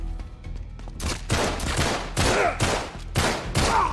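Weapons fire in Uncharted 3: Drake's Deception on PS5, heard as a string of loud, close gunshots in an uneven rhythm of about six or seven cracking blasts over a few seconds.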